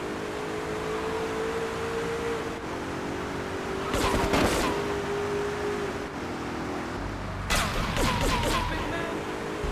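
Bursts of gunfire from cartel gang members in GTA 3, two clusters of rapid shots over a steady engine-like drone, loud and fairly close.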